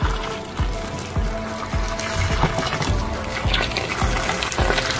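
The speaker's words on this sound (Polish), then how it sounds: "Teraz je sobie sparzę gorącą wodą." Hot water poured slowly from a kettle over cut tomatoes, a steady splashing trickle with soft repeated thuds, close and continuous, no one speaking.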